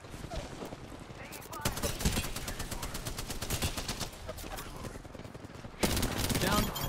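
Rapid automatic weapon fire in the video game Apex Legends, dense bursts of gunshots rattling for several seconds with short pauses, loud and close, with a player's voice talking over parts of it.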